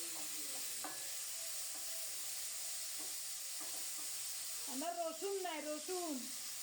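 Spiny gourd (kakrol) frying and being stirred in a pan, giving a steady, even sizzle throughout, with a few short squeaky tonal sounds near the end.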